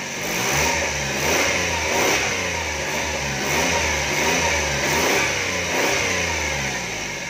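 A 660cc Suzuki K6A timing-chain car engine runs steadily up close after an ignition coil replacement, its mid-pitched hum rising and falling in gentle, regular revs.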